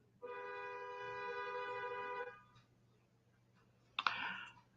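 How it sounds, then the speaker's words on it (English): A car horn honks somewhere in an apartment-complex neighborhood: one sustained two-second blare at moderate distance, followed after a pause by a short, harsher burst. "Somebody in the neighborhood's honking horn."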